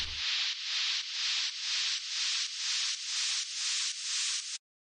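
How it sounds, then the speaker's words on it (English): A noise riser from the Noizu sample pack, meant for a 16-bar build-up: bright hissing white noise pulsing in nine even swells, each rising and falling, then cutting off abruptly near the end with nothing else behind it. "This is from the Noizu sample pack, which is like a 16 bar noise riser"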